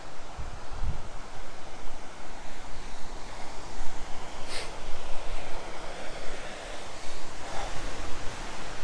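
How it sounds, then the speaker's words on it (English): Waterfall at the end of a reservoir trail in North Smithfield, a steady broadband rush of falling water heard alone at moderate distance, with faint wind rustle. "Let me see if I can show you this waterfall over here."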